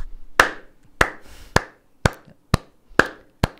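Hand clapping at a talk show recording: seven sharp, evenly spaced claps about half a second apart, crisp and close, with no talking over them.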